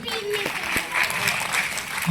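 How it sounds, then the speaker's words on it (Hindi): Audience applause breaks out at an Urdu mushaira poetry gathering, a moderate patter of clapping from the crowd heard somewhat distant, mixed with a brief voice and the hum of the hall. "एक बार ताली।"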